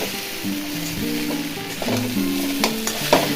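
Potatoes frying with coriander and cumin powder in a pan, a close sizzle under brisk stirring with a few sharp metal scrapes and clinks near the end.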